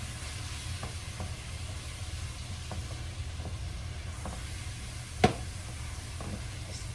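Ground meat browning in a pan for lasagna meat sauce gives a steady, even sizzle throughout, with faint utensil scrapes and one sharp clink near the end; no talk.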